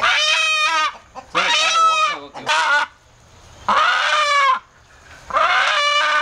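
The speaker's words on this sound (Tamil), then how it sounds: "இது நாட்டு சேவல், சண்டைக்கு போகிற சேவல், சண்டை சேவலுங்க." A native aseel fighting rooster, about 4 kg and 1.5 years old, crows and clucks loudly and close by in several harsh harmonic bursts separated by short pauses, with no talk.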